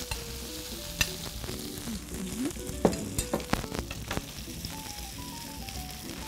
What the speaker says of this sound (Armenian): Ահա, համբերենք մինչ տապակվի